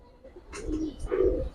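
A red-marked Giribaz pigeon coos twice in a short, close pair of low, throaty calls, with a little rustling around them.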